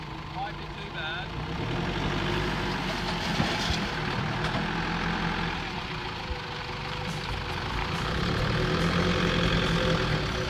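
A vehicle towing an off-road caravan crawls through a large washout on a rough Cape York bush track, bikes loaded on the rear rack. Its engine rumbles steadily and fairly loud throughout, with knocks and rattles from the bumpy ground.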